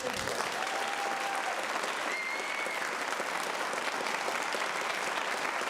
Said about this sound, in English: We'll take one more round of applause for our amazing presenters